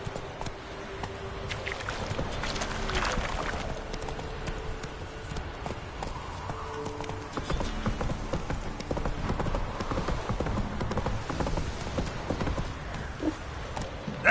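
Roach, Geralt's horse in The Witcher 3, gallops with rapid rhythmic hoof clip-clops, close and steady, and a brief whinny rises over the running hooves.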